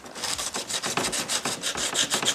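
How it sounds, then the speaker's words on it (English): Coarse 80-grit sandpaper rasps against hard plastic in quick, steady back-and-forth strokes, close up and fairly loud. "I'm basically just sanding this to make a rough finish"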